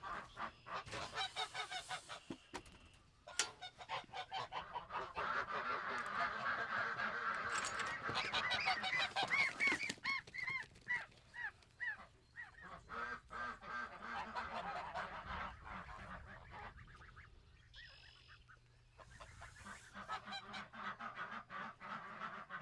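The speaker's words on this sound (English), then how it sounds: "I think you're going to be amazed how big these goslings are getting" Young goslings honk and peep on a homestead, a dense chorus of rapid, overlapping calls close by that continues throughout with brief lulls, with no talking.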